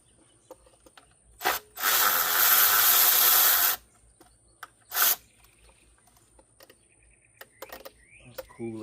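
Three 10mm bolts being removed from a charcoal-canister-like part on a 1995 Chevrolet Caprice Classic, with a loud sustained power-tool whir and short buzzing bursts set among quieter tool handling noises.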